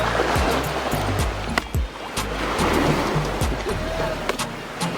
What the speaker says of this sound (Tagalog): Laka ng alon, yun o?